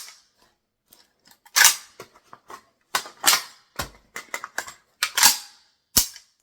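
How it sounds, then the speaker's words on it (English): An AK rifle magazine reload done at speed: a run of sharp metallic clicks, snaps and clacks, with one loud crack near the start and another near the end, close and distinct and with no talk over them. "Extracting a new magazine, knocking away the old one like that. Inserting the new magazine, and then releasing the grip of the charging handle."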